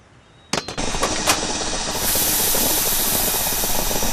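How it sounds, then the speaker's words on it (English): A cartoon car's radiator cap pops off in an app game, a sharp burst followed by a loud, steady hiss of escaping steam that carries on to the end. "It came to a sudden halt, and the radiator cap blew off."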